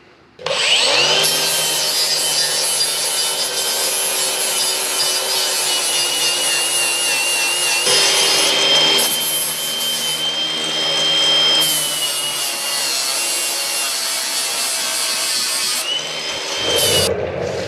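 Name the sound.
grinding metal with a power tool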